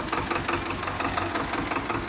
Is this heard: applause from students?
no